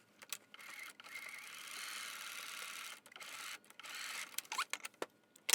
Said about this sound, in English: we're going to sew right down the center of this, and that's going to make our bow.